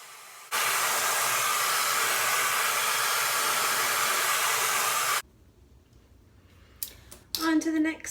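A hair dryer blows loud and steady with a round brush during a pixie cut styling, running for about five seconds before switching off, followed by quiet rustling and a brief voice.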